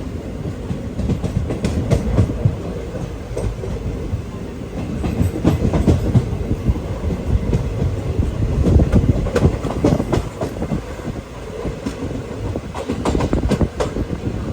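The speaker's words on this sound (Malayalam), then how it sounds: "തിരുവനന്തപുരം നോർത്ത് റെയിൽവേ സ്റ്റേഷനിലേക്ക് ഇതാ നമ്മുടെ ട്രെയിൻ എത്തിക്കൊണ്ടിരിക്കുകയാണ്" A passenger train on the Kollam to Thiruvananthapuram line pulls into Thiruvananthapuram North station, its wheels beating out a loud, steady clickety-clack with rising and falling rumble, and no voices.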